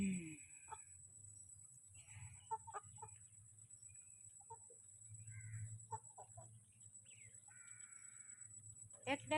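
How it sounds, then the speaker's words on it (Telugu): Backyard chickens and ducks, apparently being given water, make scattered short clucks and calls over a steady low rumble, with a burst of sharper calls at the end. "కోళ్ళు."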